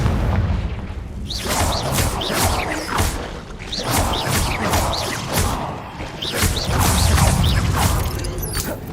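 Confringo explosion spells in Hogwarts Legacy on hard mode, a series of loud booming blasts and crashes with whooshing bursts, repeating roughly every second over combat noise.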